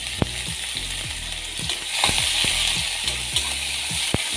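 Onions fry in hot oil with dried red chili and nigella seeds, a continuous close sizzle punctuated by sharp clicks and scrapes of a spatula against the pan.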